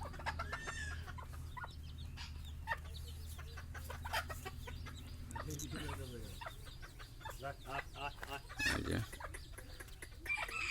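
Hill jungle fowl rooster among chicks, with steady clucking and a short crow, chicks peeping, a person talking faintly in the background.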